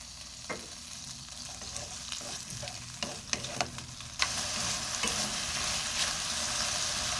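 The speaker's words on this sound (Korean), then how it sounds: "여기다가 지금 끓은 거 이 상태를 그냥 건져서 바로 부어주면 돼요" Boiled lotus root is scooped out and poured into gochujang sauce in a pan: a few light clinks and knocks, then a steady, moderately loud bubbling sizzle takes over.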